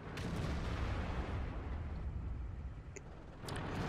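Tank guns in the World of Tanks video game rumble as a continuous deep roar of distant firing and explosions, a low heavy wash with a couple of faint higher pops near the end.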